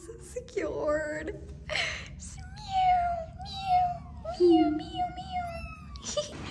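Two young kittens cry together in repeated high, drawn-out meows that overlap one another, close by, while a person talks between and over the calls.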